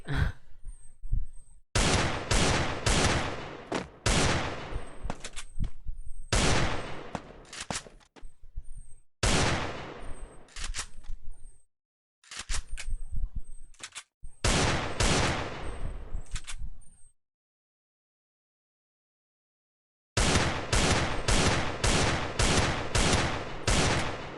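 Loud, dense bursts of rapid gunfire in Free Fire during a red-versus-black team shootout, coming in long volleys separated by short gaps and a few seconds of silence, with no talk over them.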